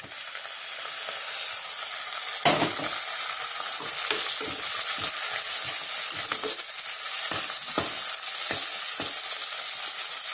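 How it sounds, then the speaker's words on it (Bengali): Onions fry in a pan for a Bengali tangra fish curry as tomato goes in. A steady, close sizzle runs throughout, broken by repeated scraping stirs and a sharper splash of added ingredient. "আমার পেঁয়াজটা খুব সুন্দর করে ভাজা হয়ে গেছে, এবার এর মধ্যে আমি টমেটোটা দিয়ে দেব।"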